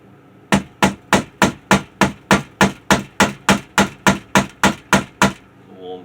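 A curved tri-tail tuner being struck during its build: about sixteen loud, evenly spaced hammer blows in a steady rhythm, each sharp impact ringing briefly before the next, with nothing else heard.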